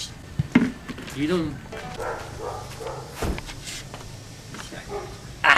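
A dog barks and growls in short bursts while people talk nearby, with rustling and movement in the background.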